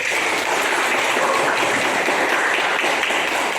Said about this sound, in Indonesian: Kita berikan aplaus untuk Gus Nadi.